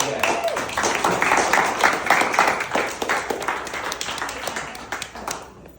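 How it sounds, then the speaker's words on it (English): Round of applause at a state representative's reelection fundraiser in a local business, dense mixed clapping from a small crowd that swells, then thins out and fades, with voices mixed in. "round of applause for all of us"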